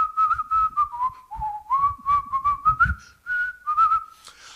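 Someone whistles the hymn "Everlasting Arms", a clear, tuneful melody of sustained and gliding notes, close and alone with faint background noise.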